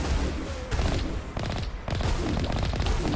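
A vehicle-mounted weapon in Mass Effect fires at an enemy turret in loud, rapid, sustained bursts with heavy booming impacts and brief pauses between volleys.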